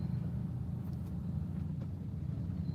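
Bangkok road traffic rumbles in a low steady drone of engines, moderately distant and continuous, with faint higher noises passing briefly over it.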